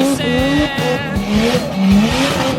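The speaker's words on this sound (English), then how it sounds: "what do you say we do some skids while we're cleaning up the shop?" A car doing skids inside a shop, its engine revving in rising and falling surges with a tonal squeal on top, loud and close for a few seconds.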